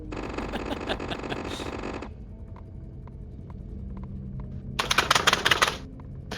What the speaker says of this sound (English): now you're just abusing your keyboard